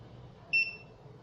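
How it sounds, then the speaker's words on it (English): A Hikvision CCTV DVR with no hard disk installed gives a single short, high electronic beep over a quiet room hum. "it will give a beep, a red beep, and it will beep again and again till the hard disk is installed"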